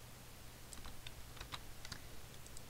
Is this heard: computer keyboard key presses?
yes